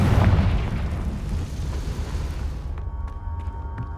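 A Confringo explosive spell bursts in Hogwarts Legacy with a loud booming blast up front, then the roar decays into rumbling debris and a few faint crackles.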